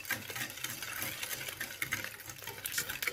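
Crêpe batter being mixed in a bowl, a quiet, continuous whisking and stirring swish with soft scraping, faint and alone with no talking.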